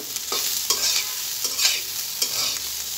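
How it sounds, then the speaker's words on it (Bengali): Rohu fish roe is stirred into frying potatoes, a rhythmic series of scraping stirs about every half second over a steady sizzle of hot oil, close and without voices. "এখন আমি ডিমটা আলু ভাজিতে দিয়ে দিব, দিয়ে সুন্দর করে একটু নাড়াচাড়া করে"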